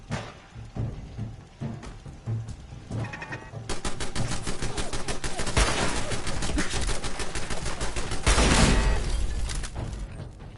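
Gunfire in Fallout 4 starts as scattered separate shots, then swells into dense, continuous automatic fire and volleys that stay loud to the end.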